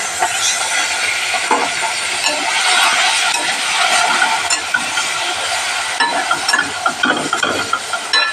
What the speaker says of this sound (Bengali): মাছগুলো ভালো করে আমি একটু একটু করে ভেজে নেব।